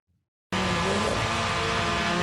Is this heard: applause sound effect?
no